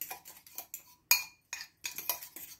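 Seafood salad tossed with a garlic powder dressing, a string of short clinks and scrapes of utensils against a bowl in uneven bursts, close and fairly quiet with brief silences between.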